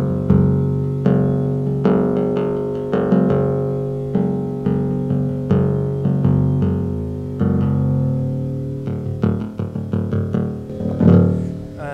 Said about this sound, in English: by this rotation we can generate inharmonic sounds